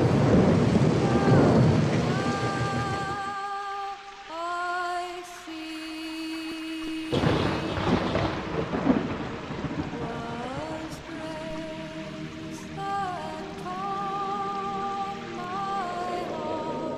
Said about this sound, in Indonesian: Kami akan menunggu dengan sabar hujan ini.